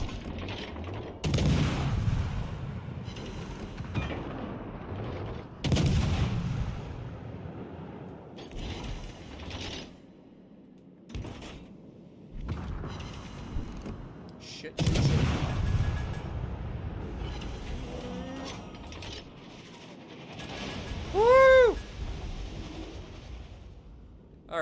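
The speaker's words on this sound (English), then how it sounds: "I don't blame the Kansas for shooting at me" Naval battle in World of Warships Legends with warship guns firing at a Kansas: heavy booming salvos recur every few seconds, fading between volleys, with a rising whistle-like tone near the end and no talk.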